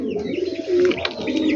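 A pigeon coos in a loft, low soft throaty calls repeating close by, with a few faint chirps and rustles around it.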